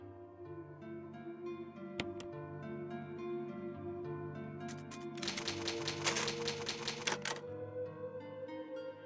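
Typewriter save with an ink ribbon in Resident Evil, a faint series of key clacks and a rapid burst of typing strikes over a quiet sustained musical drone.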